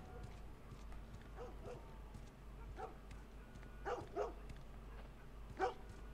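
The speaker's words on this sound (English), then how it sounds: "I hear my dog." In The Last of Us video game, a dog barks in a few faint, distant bursts over a quiet, low ambient hum, the barks coming irregularly with short gaps between them.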